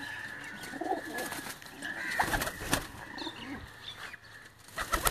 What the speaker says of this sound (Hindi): ये जो कबूतर आपको दिखाया जा रहा है मोतियों वाला